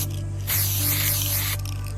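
Spray paint hisses from an aerosol can in a burst of about a second while camo layers go onto a DJI Mavic Air 2 drone, over a steady low electrical hum, with quieter hum before and after.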